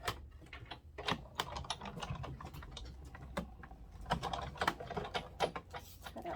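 A die cut machine cranked by hand as paper and a popsicle stick run through it for a melting summer-themed card, making a steady run of close, dense clicks and ratcheting ticks with no talk.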